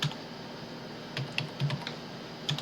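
Light keystrokes on a computer keyboard entering a search, a few scattered soft clicks in a quiet room, with no voices.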